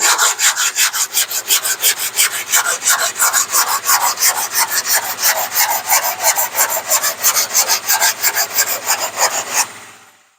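A long sanding block with 36-grit paper is pushed back and forth over bondo on a dented rear quarter panel, making loud, close, rhythmic rasping strokes that repeat evenly with no talk until they stop at the end.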